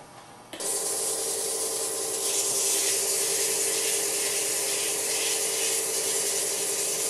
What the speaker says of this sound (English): now I've got it sanded up through 400 grit.